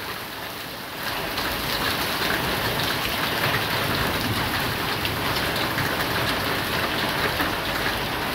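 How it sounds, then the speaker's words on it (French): Violent thunderstorm with heavy hail about 2-3 cm falling, a dense, constant roar of hammering stones that jumps louder after the first second and stays loud and even throughout. "C'est un orage plus que violent là. Oh la grêle qui tombe."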